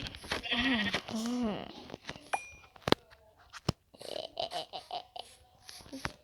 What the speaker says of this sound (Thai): สวัสดี น้องแกะ